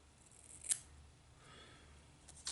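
Scissors trimming thread during fly tying, with a couple of faint, crisp snips at close range in an otherwise quiet room.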